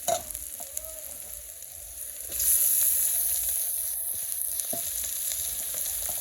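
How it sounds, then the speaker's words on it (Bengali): Animal skins added to a pan of already fried onions sizzle and crackle steadily, close up, with a stir and occasional pops, and no one talking. "আমি এখন চামড়াগুলো দিয়ে দিব"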